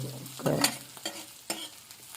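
Cluster beans (gawar) cooking with onion and tomato are stirred and flipped in a hot pan: a continuous sizzle broken by several scraping clatters from the spatula, close and fairly quiet, with no talking.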